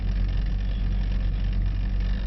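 A Mercedes E63 AMG engine pulls steadily in fourth gear on a skid pan, giving a continuous, loud low-pitched drone that stays even, with no talk over it.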